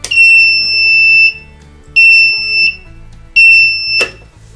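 A timer on backup power equipment sounds three loud, piercing, high-pitched beeps, the first longer than the other two, with a sharp click at the end.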